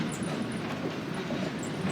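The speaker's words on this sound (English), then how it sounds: "and the train goes all the way around." A museum train running around its track at the National Railroad Museum in Ashwaubenon, Wisconsin, heard as a faint, steady rolling rumble with light rattling throughout.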